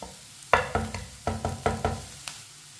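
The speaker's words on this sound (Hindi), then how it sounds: "प्याज को हल्का सा ब्राउन कर लेंगे।" Onions frying in a pan until lightly browned for a bitter gourd (karela) sabzi give a quick series of sharp stirring scrapes and knocks over a soft sizzle, about seven close strokes with no talk.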